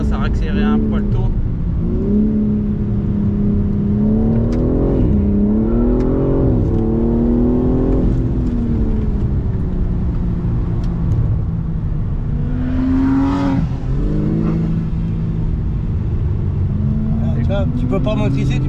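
A rally car accelerates hard out of a corner, heard loud from inside. The engine revs rise and fall over and over through gear changes, with a strong, continuous mechanical roar.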